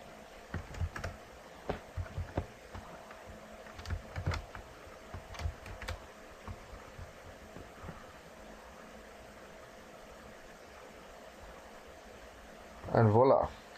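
Someone types a username and password on a computer keyboard, giving quiet, scattered key clicks in short runs over a faint fan hum, with a brief louder clatter near the end.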